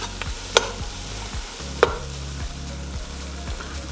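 Gumbo vegetables, salted to draw out their moisture, cook in a pot with a low steady sizzle, broken by two sharp clinks of a utensil against the pot.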